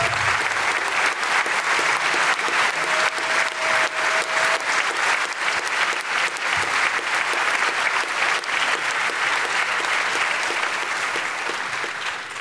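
A large audience at the 2023 International Award Vexillum G. Sciacca ceremony claps steadily and densely for over twelve seconds, a loud, even wash of applause with no break.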